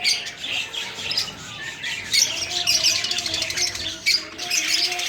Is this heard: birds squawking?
yes